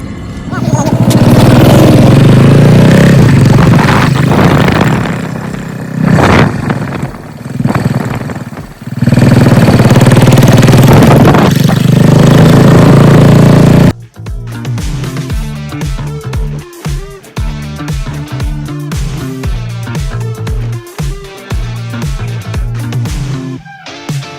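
Royal Enfield Bullet 500 single-cylinder motorcycle engine, loud and rough at first, then settling into a steady rhythmic idle thump after starting, running close by with no talk.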